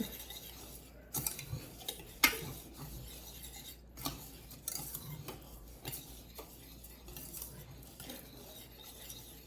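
A utensil scrapes and stirs in a bowl, mixing crushed Ritz-style crackers with butter for a baked shrimp casserole topping, with quiet intermittent clinks and rubs close by and no talking.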